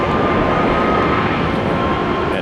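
An aircraft engine roars loud and steady near Tampa airport, a broad, unbroken rumble with no talk over it.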